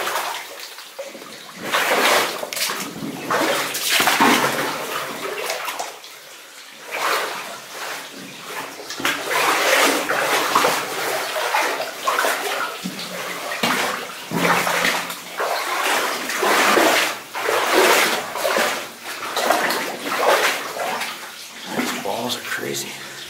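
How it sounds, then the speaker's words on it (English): Water runs and splashes inside a cleaned-out cavity at a Sierra Nevada gold mine, a loud, steady rushing flow with surging, spattering bursts throughout. "Here's some running water in the back."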